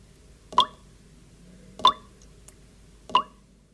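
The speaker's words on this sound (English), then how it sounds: "Drip!" Three single water drips fall alone at a slow, even pace about a second apart, each a sharp, close plop over faint background noise.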